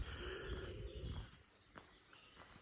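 Thin, high chirps of small birds, likely firecrests, ring out from coastal woodland of holm oaks at the Undercliff, a few brief calls scattered over faint background hiss.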